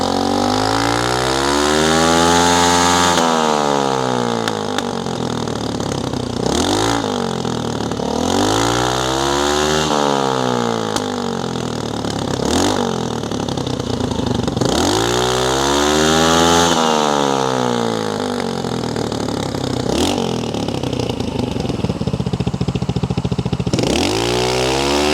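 A GY6 moped engine with a makeshift repaired muffler revs repeatedly, its loud buzzing whine climbing and falling in several throttle blips over a steady idle, close and without voices.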